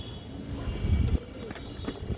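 A pair of lively young flying-line pigeons at a Bangladeshi loft coo in low murmurs, close and soft, with brief wing or foot sounds in the background.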